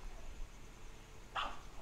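A single short dog bark sounds near the end, faint and somewhat distant against a quiet indoor background.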